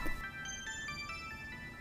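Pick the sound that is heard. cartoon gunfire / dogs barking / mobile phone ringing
mobile phone ringing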